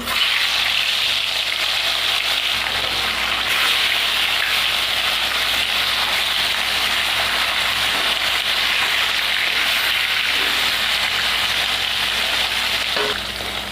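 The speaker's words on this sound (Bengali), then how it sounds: "এবার মাছগুলো ভেজে নেব।" Pieces of silver carp fry in hot oil in a wok, giving a steady, loud, dense sizzle that holds evenly throughout, with no voices.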